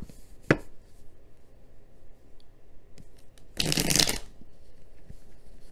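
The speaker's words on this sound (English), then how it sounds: "Just a quick, good shuffle here" A deck of reading cards is shuffled in one quick, crisp riffle burst lasting under a second, close and fairly quiet, after a single soft tap.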